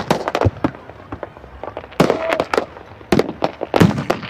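Fireworks bursting outdoors in repeated sharp cracks and booms, some clustered in quick bursts around the two- and four-second marks, loud and fairly close with no talk over them.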